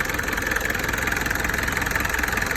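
An old Isuzu-type 4DR5 diesel engine idles steadily after starting, a continuous close-up rumble with a rapid, even knocking rhythm throughout and no talk.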